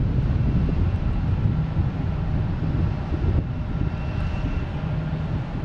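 An Azores Airlines airliner arriving at Boston Logan International Airport, a steady broad engine roar with some wind noise on the microphone, continuous and fairly loud, no talking.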